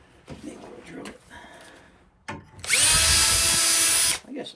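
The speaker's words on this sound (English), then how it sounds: "Maybe we'll drill it." A power drill drives a screw into an old-fashioned hinge, a loud steady whine lasting over a second that starts abruptly and cuts off, preceded by brief handling noises and faint talk.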